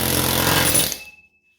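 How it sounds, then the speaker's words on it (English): An air hammer drives a pickle fork into a steering knuckle during tie rod and ball joint work on a 2011-2014 Hyundai Sonata, giving a loud rapid close burst of hammering that stops abruptly and then rings down to silence. "I'm just going to pickle fork it with an air hammer."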